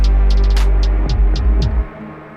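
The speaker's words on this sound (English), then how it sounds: "Sounds like racing cars in the distance." A synthesized FL Studio sound resembling racing cars in the distance: a low droning hum with faint high whooshing blips that pass in a row, then cuts off abruptly near the end.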